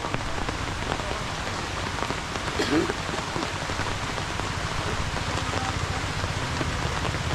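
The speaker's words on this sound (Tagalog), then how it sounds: "Lumakas na nga ang ulan." Heavy rain pours down steadily, a dense hiss of drops drumming on surfaces with no break throughout.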